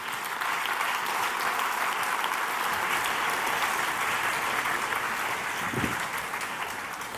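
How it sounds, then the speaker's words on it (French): An audience applauding a candidate at the Swiss final of a science talk contest, dense steady clapping from a full hall that holds at one level throughout and eases slightly at the close. "Merci à présent d'applaudir le candidat"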